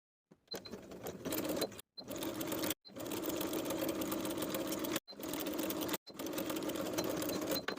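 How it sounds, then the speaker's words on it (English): Sewing machine stitching the raw edges of a blouse collar stand and collar piece, running in steady whirring bursts of one to three seconds with brief stops between them, close and clear. "Sew the raw edges of the collar stand and collar piece in place with a 3/8 inch seam allowance."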